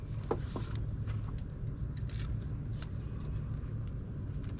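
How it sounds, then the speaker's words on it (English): A work truck parked with its engine idling on a job site, a steady low rumble that runs the whole time at close range, with a few faint clicks and squeaks on top. "Truck's on, but not moving."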